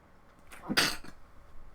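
One short, sharp sneeze close by, a quick breathy burst in an otherwise quiet room.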